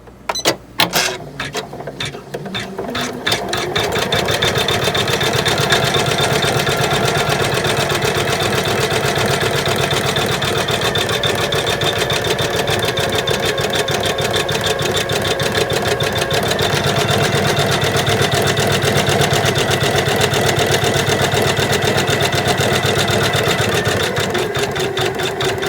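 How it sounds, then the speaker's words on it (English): Embroidery machine running a satin stitch around a circle-in-a-square quilt block, a fast steady needle chatter that starts with a few uneven stops and then hums on continuously and loudly. "now the embroidery machine is doing the final loop around with the actual satin stitching"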